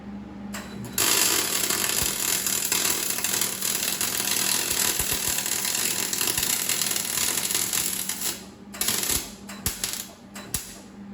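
An aluminum adventure motorcycle pannier is being welded, with a continuous close buzzing crackle for about seven seconds that then cuts off into a few short sputtering bursts.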